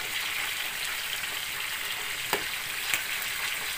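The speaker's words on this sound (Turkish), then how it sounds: "Çok kızartmak lazım, kızartmak." Food frying steadily in a pan in a home kitchen, a continuous close sizzle with a couple of brief clicks of utensil contact and no talk.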